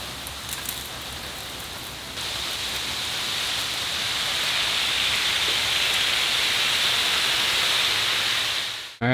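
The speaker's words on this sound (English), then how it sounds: "Just getting a little bit of rain right now." Steady rain during a Florida hurricane, a hissing wash of falling drops that starts soft with a few taps, then thickens into a constant close downpour.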